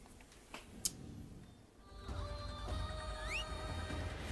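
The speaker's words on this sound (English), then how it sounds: "Alright, let's see this dope horse." A horse in Assassin's Creed Shadows whinnies in a rising, squealing call near the end, preceded by a few sharp clicks and hoof thuds, at moderate loudness with no talking.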